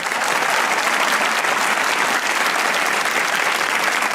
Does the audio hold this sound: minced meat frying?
no